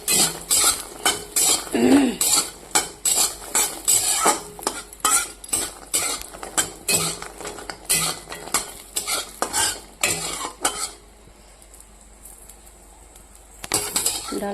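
Potol and other vegetables fry in a pan for a vegetarian curry, with repeated rhythmic spoon strokes scraping against the metal over a soft sizzle, close and loud, fading to mostly quiet sizzling near the end before stirring resumes.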